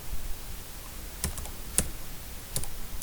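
Typing on a computer keyboard while writing an email body: soft, uneven key clicks at close range, with a few sharper taps standing out over a steady room hiss, no voices.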